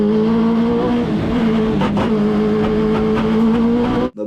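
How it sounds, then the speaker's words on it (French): Onboard a hill climb race car, the front splitter scrapes along the road under a loud, steady engine drone, a constant grinding roar that cuts off abruptly at the end. "On a beaucoup de bruit, en fait c'est la lame avant qui frotte par terre"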